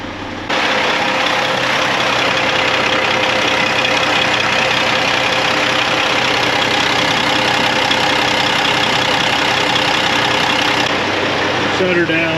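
Steady, loud engine idle from a newly purchased farm vehicle, a continuous droning rumble that runs without a break until it cuts off near the end.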